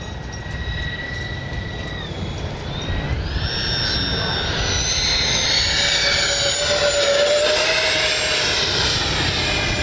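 A Freewing 80mm A-10 V2 RC jet in low light makes a low pass, its steady ducted-fan whine rising and swelling as it sweeps closer, with a pitch shift as it goes by, alone without talk.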